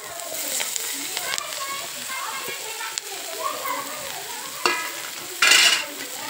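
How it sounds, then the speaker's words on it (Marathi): Green leafy vegetables, chandan batwa greens, fry and get stirred in a pan with peanut powder: a steady sizzle runs under clinks and scrapes of a spoon, with a louder burst of hiss near the end and children faintly audible in the background. "आता मी टाकून घेते भाजी."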